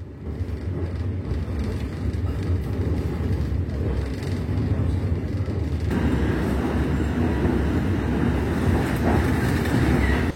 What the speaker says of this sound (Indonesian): kereta api Tumapel diberangkatkan kembali dari stasiun Tanggulangin